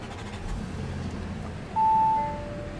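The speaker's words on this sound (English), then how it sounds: "what you're hearing there is a 3-liter supercharged V6." A 3-liter supercharged V6 in an Audi Q7 SUV cranks and catches with a push-button start, settling into a steady low idle that rises in a brief rev, heard close inside the cabin after a faint background rumble.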